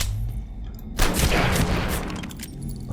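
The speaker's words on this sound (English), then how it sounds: "I felt like we were getting shot in the back there" Enemy gunfire in the survival game Abiotic Factor, a sudden burst of rapid shots that carries on for about two seconds, loud and close, after a low background hum.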